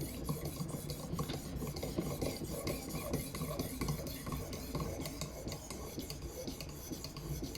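A knife edge worked on a fixed-angle sharpener with forward sweeping strokes, a continuous close gritty rasping that rises and falls with each pass, no voices.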